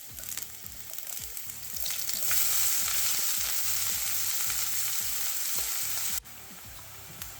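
Chopped onions sizzle and caramelize in a hot pan while garlic butter parmesan noodles are made. A steady, close frying hiss builds slightly, with faint stirring clicks, then drops in level near the end.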